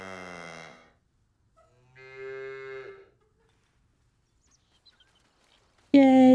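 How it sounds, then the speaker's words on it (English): An ox lowing in the video game Baldur's Gate 3, two drawn-out moos separated by a short quiet gap, clear and close, followed by a sudden louder burst of sound at the end. "I made friends with the cow."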